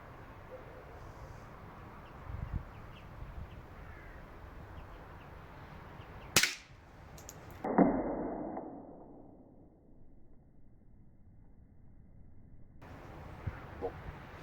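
A Peiper Bayard 1909 .22 Short single-shot garden rifle fires once, a sharp close crack followed by a second bang and a fading tail, against a quiet outdoor background.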